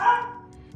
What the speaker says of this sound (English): The dog is barking, I'm sorry.